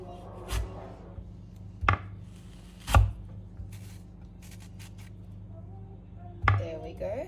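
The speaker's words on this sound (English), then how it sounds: "I'm going to core them to remove all the seeds." A knife cores peeled apples on a cutting board, producing four sharp, separate thuds spaced irregularly, near and distinct against a quiet kitchen background.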